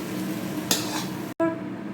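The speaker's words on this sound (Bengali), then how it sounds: "এবার এটা দিয়ে মশলাটা আরও একটু ভালো করে কষাবো" Spice paste for egg posto is stirred and fried in a pan, a steady sizzle with a scraping stroke of the utensil partway through and a brief break near the end.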